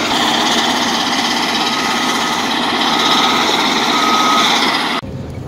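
Rock crusher and vibrating screen running at a quarry where BelAZ haul trucks work: a steady, loud, dense mechanical roar and rattle lasting several seconds, then cutting down abruptly near the end.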